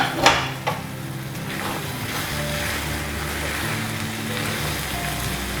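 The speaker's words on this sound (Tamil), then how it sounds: "ஸோ இன்னொரு 2 மினிட்ஸாக கொதிச்சிட்ருக்கு" Capsicum and tomato gravy simmers and sizzles in a pan, giving a steady bubbling hiss with a couple of sharp clinks near the start and no one talking over it.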